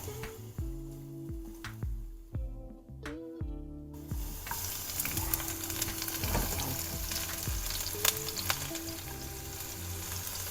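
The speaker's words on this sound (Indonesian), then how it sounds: "untuk menumis. Kita masukkan bawang putih," Garlic, shallots and chili sauté in a small amount of leftover tempe-frying oil, a close, steady crackling sizzle with stirring; a faint tonal hum fades out around four seconds as the frying grows fuller.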